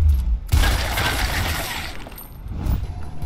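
A weapon firing in the Gears Tactics video game: a loud, harsh burst of gunfire that begins abruptly and rolls on for about two seconds, then a second swell, with no talk over it.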